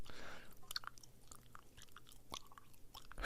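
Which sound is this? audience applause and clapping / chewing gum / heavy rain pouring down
chewing gum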